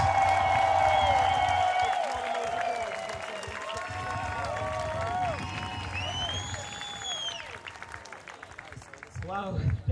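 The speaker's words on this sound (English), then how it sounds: "Let's hear him make some noise!" Concert crowd applauding and cheering at a Pride concert in Malta, loud at first then thinning, with whistles and shouts over a sustained musical tone and a voice speaking near the end.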